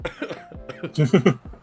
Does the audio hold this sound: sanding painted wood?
no